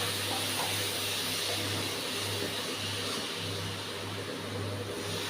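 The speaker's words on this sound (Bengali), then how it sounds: "এখন আমরা একটু জল দিচ্ছি, জলটা একসাথে দেবো না, একটু একটু করে দেবো।" Water poured bit by bit into a hot pan of upma (semolina), giving a loud, continuous sizzling hiss of steam over a low kitchen hum.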